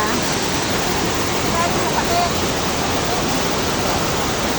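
Sprite Falls waterfall in Majayjay, Laguna, a loud steady broadband roar of falling water, close and unbroken throughout.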